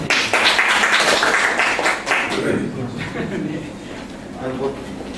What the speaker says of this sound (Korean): 큰 박수 한번 좀 부탁드립니다.